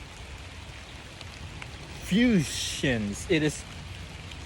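Steady rain falls on leaves and dirt, a soft continuous hiss running throughout while a person speaks briefly over it near the middle.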